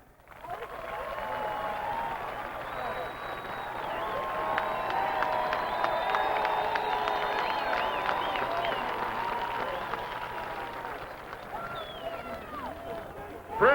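Drivers and pit crews at a 1993 dirt track race finale applaud and cheer the fans from a distance, a broad crowd roar swelling under a loudspeaker voice.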